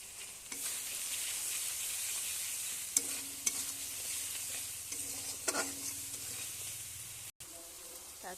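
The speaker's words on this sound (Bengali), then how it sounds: "মশলাটা ভালো করে একটু কষিয়ে নেব" Spice paste (masala) with salt and turmeric sizzles as it is sautéed and stirred in a pan: a steady frying hiss, broken by scrapes of the spoon and a few sharp clinks, with no talking.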